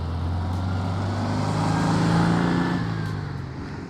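A 1959 Volkswagen Beetle accelerates hard in third gear, its air-cooled engine droning with a rising, steady pitch, loud and close, then easing off toward the end.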